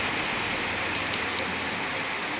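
Heavy rain falls steadily in Mangaluru, giving a loud, continuous hiss of drops striking surfaces with no pauses and no voices.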